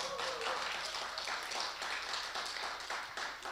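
A church congregation claps together at a Saturday service, giving a steady, moderately distant patter of many hands with no talk over it.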